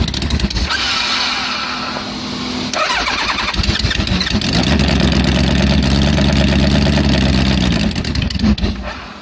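A motorcycle engine cold-starts, running rich, with loud cranking, an uneven idle and rising revs settling into a steady rumbling idle, all heard up close.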